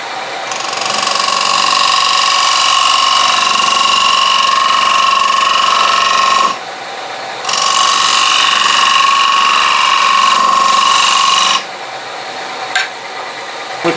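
A parting tool cuts into wood spinning on a lathe: a loud, steady whining cut that runs for several seconds, drops away briefly, resumes just as strongly, then falls to the quieter hum of the machine.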